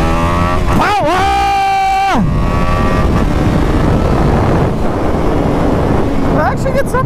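A BMW 310R motorcycle revs hard and climbs through the gears, each upshift marked by a rising engine whine that then drops, with heavy wind noise and a rider's voice mixed in.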